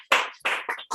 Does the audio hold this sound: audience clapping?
yes